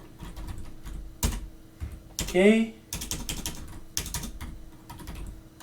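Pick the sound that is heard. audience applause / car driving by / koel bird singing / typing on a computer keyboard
typing on a computer keyboard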